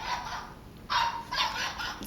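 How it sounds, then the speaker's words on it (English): A teddy bear's built-in sound insert plays a recorded dog bark, a few faint, tinny yaps heard alone. "So that's the dog barking."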